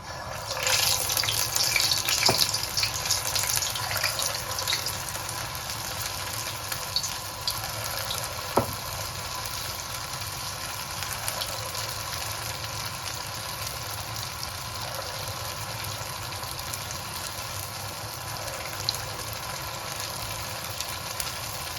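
Small portions of snack batter fry in hot oil with a continuous, fairly quiet crackling sizzle and a few sharper pops and drips scattered through it.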